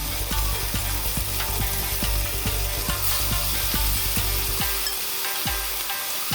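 Sauce hitting a hot wok in a live lobster stir fry, a loud, steady close sizzle with intermittent stirring scrapes throughout, no voices.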